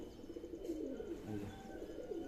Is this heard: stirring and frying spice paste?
no